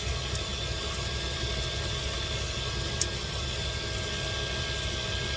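A steady, low mechanical hum drones on with a faint high whine, like a kitchen mixer running continuously nearby while making cookie dough, with no talking.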